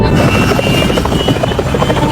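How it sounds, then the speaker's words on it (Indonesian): A loud, steady helicopter roar with thudding rotor chop, close by and continuous, with no voices. "mendadak, deru helikopter terdengar dari belakang mereka"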